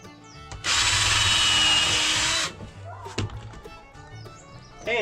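A power drill whines loudly and steadily for about two seconds while boring pallet holes in wooden boards, followed by thunks and handling knocks of the wood.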